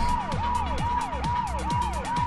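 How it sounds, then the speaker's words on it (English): A wailing ambulance siren from the video game Saints Row 2 sweeps up and down in a fast repeating cycle, about four sweeps in two seconds, loud and alone. "I like how the siren goes with this song."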